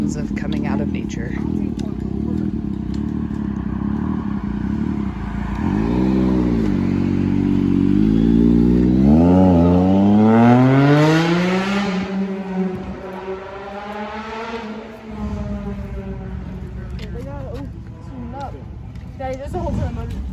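Several motor engines revving and accelerating in a parking lot near the start of the Appalachian Trail, loud and close, with rising and falling pitch sweeps over a steady rumble.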